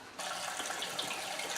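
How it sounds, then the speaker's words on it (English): Water gushes steadily from a tap into a large brew pot being filled with about nine gallons, a broad, constant rushing splash that starts abruptly and continues without pause. "I'm going to add about 9 gallons of water to my brew pot"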